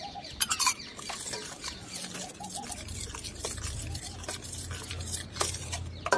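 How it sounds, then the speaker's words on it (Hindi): Milk for saffron pistachio kulfi is stirred continuously in a pan, a soft scraping and swishing that repeats in a steady rhythm, close and fairly quiet, with light sizzle beneath. "इसको हम लगातार चलाते हुए पकाएंगे, बीच में बिल्कुल भी नहीं छोड़ना"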